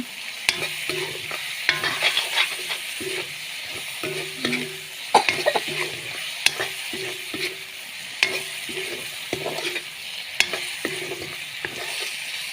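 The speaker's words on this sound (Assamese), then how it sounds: "কেঁচাখিনি ভালকৈ অলপ ভালদৰে ভাজি কেঁচা তেলৰ গোন্ধটো নাইকিয়া কৰি ল'ব লাগিব।" Onions sizzle steadily in hot oil while a utensil scrapes and stirs the pan in repeated, irregular strokes, close up with no talking.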